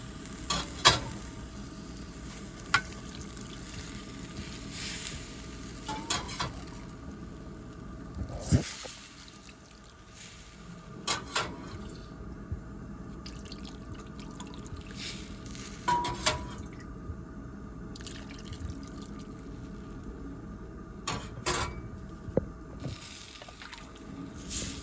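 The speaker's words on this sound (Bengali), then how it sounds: "আমি গরম জল দিয়ে দিলাম।" Hot water poured into frying vegetable khichuri of rice and mixed vegetables, giving a soft continuous bubbling and sizzle with scattered drips and splashes, close and moderately quiet, with no talking.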